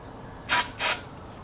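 Two quick hissing bursts of brake cleaner sprayed as starting fluid into a trash-picked Craftsman 5600 watt generator, close and sharp, separated by a brief pause, with no talking.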